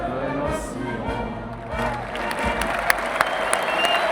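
Applause from a crowd right after the French national anthem at a bullfighting festival in southern France, dense clapping with voices mixed in, a few sharper claps standing out toward the end.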